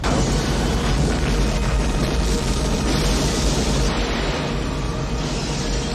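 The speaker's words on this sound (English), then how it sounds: "That was a hell of an explosion." Movie explosion from the 1993 film Demolition Man, a dense, loud roar of blast and rumbling debris sustained across the whole stretch without letup.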